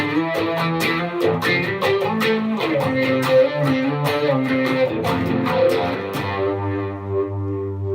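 Electric guitar chords strummed with a heavy, swirling effect, ringing out in a steady rhythm before fading at the end.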